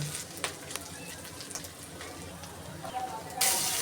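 A spice paste of ginger and garlic is fried and stirred in a pan, a soft, steady sizzle with occasional light clinks and scrapes, fairly quiet and close.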